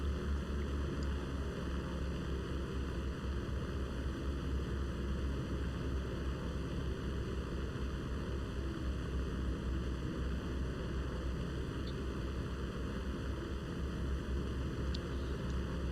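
The NC223.3 bomber's engines drone steadily as it climbs in War Thunder, a constant, unchanging hum with a wash of wind noise throughout, no voices over it.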